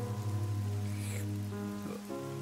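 Rain falls steadily as a soft hiss, with a strong low droning hum running beneath it and no voices.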